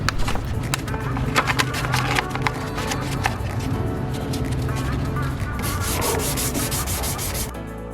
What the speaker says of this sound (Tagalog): Gagamit tayo ngayon ng 400 grit sandpaper.